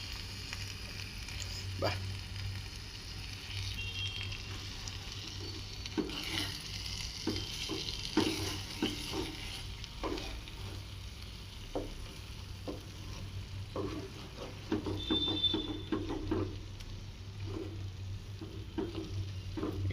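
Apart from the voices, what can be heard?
stirring tomato egg mixture in a frying pan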